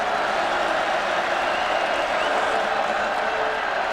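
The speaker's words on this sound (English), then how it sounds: "Fargo Dome crowd trying to give this defense some life" A football crowd in the Fargo Dome at a South Dakota at North Dakota State college game roars as a broad, steady wash of cheering and noise, loud and unbroken throughout.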